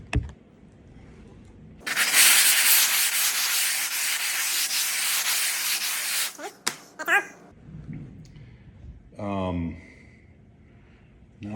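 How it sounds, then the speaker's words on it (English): A large diamond wheel sands down a rough iron mold in one loud, steady grinding burst lasting several seconds, followed by a few scraping knocks and a brief voice. "this is a big diamond wheel. So I'm just going to use this to sand this down lightly"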